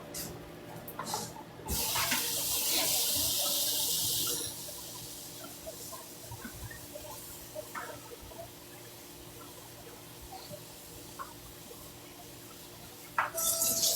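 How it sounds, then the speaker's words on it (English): Collard greens are rinsed under running tap water in a kitchen sink for Sunday dinner cooking: a steady splashing rush of water, louder at first, then a continuous softer stream with small clatters and drips, close by. "So let me put them in this right here and rinse, wash them."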